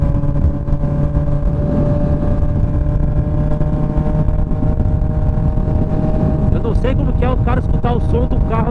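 Honda CB 1000R motorcycle with a loud aftermarket exhaust, a continuous deep engine roar held close throughout, with a burst of rising revs near the end.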